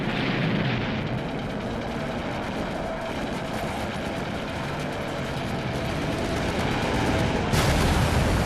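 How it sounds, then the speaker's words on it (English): Japanese bombs fall on American runways and a command post, a thick, continuous roar of blasts and rumbling fire that rises sharply near the end. "The Japanese bomb the runways and obliterate the command post."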